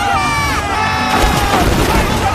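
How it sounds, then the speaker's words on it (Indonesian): A crowd in the animated series Throne of Seal cheers loudly for two fighters after a duel, a dense, sustained roar of voices with whoops and a few heavy thuds underneath. "Semua orang memberikan sorakan meriah kepada mereka berdua"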